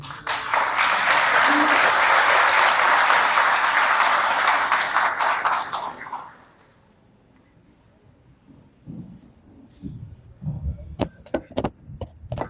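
A dense burst of applause from a crowd at a labor ministry conference fills the first six seconds, then fades into quiet with a few scattered claps and taps.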